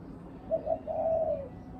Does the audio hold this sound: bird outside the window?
yes